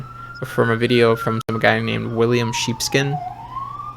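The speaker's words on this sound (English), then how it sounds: "sorry for the siren" A wailing siren sweeps up and down in the background while someone talks over it close by.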